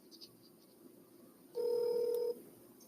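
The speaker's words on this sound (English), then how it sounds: "just waiting for the phone to dial out" A telephone dialing out before a call connects: a single steady tone of under a second rises clearly above a quiet background, with no talk over it.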